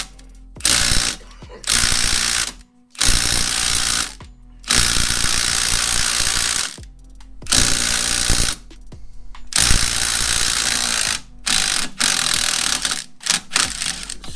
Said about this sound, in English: So what are you doing going back and forth with the impact?